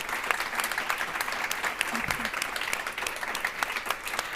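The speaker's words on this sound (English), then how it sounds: "please join me, everyone, in giving a big round of applause for all of our panelists today." Conference audience applauding the panelists at a women's leadership conference, sustained clapping with sharp individual claps standing out over a steady crowd wash, a brief low murmur of voices partway through.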